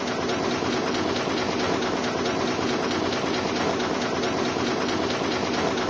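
A car engine showing signs of blow-by runs steadily at idle, a dense, even mechanical churn with a constant drone and no speech.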